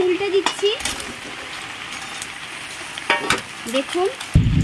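Leaf-wrapped bele fish paturi, just flipped, fries in a pan with a steady close sizzle and occasional clinks of a utensil, while a voice speaks briefly now and then.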